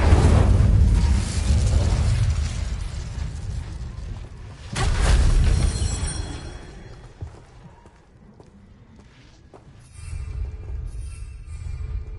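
In the video game Hogwarts Legacy, the Incendio fire spell erupts in heavy, booming bursts of flame, with a loud rush at the start, another midway, and a third near the end between quieter gaps.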